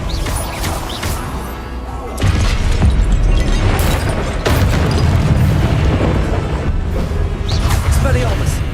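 Spell-casting blasts from Hogwarts Legacy boom and crash in a rapid string of loud bursts over rumbling game sound, while a player calls out spell names throughout.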